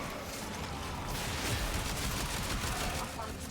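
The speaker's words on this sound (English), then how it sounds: "Just gonna shoot off our Stug" A Stug gun in Warframe fires continuously in a dense, unbroken barrage of rapid shots that keeps a steady level throughout, with a voice faintly mixed in.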